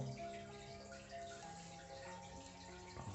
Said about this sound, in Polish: leci mi osmoza, podłączona jest pod kranik